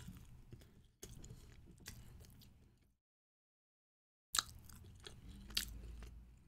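Food is chewed close to the microphone in short crunchy, wet bursts, broken by a full pause of silence before the chewing resumes.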